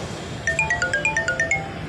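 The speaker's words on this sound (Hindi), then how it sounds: "इसके फोन पर इसके भाई का कॉल आ रहा है" A mobile phone ringtone for an incoming call, a rapid melodic run of electronic beeps over a steady background hum, fairly clear and close with no talk.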